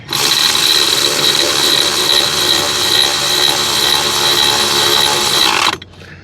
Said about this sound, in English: go ahead and snug these two bolts back down tight.